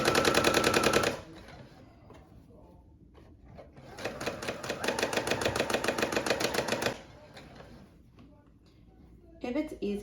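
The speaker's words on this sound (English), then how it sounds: "All right, and you start sewing." A sewing machine stitches a car seat canopy in rapid rattling bursts, loud at the start, pausing, then running steadily for several seconds before stopping, with a voice talking over the stitching.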